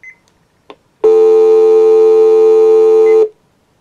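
A Panasonic KX-TC1450W 900MHz cordless telephone gives a couple of short chirps, then a loud, steady electronic tone lasting just over two seconds before cutting off.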